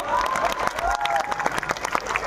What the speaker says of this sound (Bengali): একটা জোরে হাততালি স্যারের জন্য।